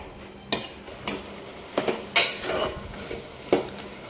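Ginger garlic paste and tomatoes stirred in a pan for a dried prawn and egg curry, a spoon clinking against metal in a handful of scattered knocks and scrapes, close and fairly quiet, no talking.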